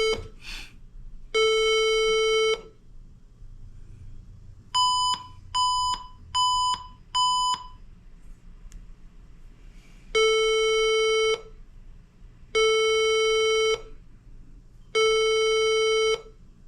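Electronic beeping in bursts: rapid tonal beep trains in several groups with short pauses between, loud and close, no voices.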